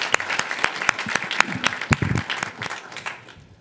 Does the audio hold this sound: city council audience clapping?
yes